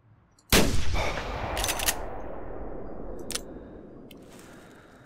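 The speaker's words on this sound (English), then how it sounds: "Maybe I will try taking it with a shot." One loud rifle shot goes off in a hunting video game set at Val-des-Bois, a sharp crack followed by a long rolling echo that fades out over several seconds, with faint clicks afterward.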